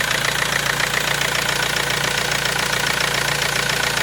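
Mercedes C-Class W204 facelift with the 2.2 CDI OM651 diesel, 136 hp single-turbo version, idling steadily up close: a continuous, even, broadband engine rumble with a fine regular clatter throughout and no talking.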